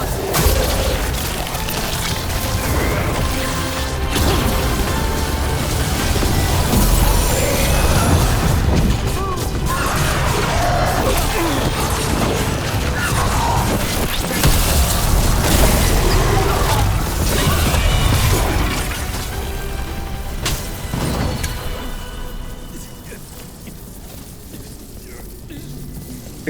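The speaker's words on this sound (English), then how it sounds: "They're firing at us!" Gunfire and explosions in Dragon Age: The Veilguard, a chaotic, loud battle din of crashes, booms and bursts that thins out near the end, with voices talking amid it.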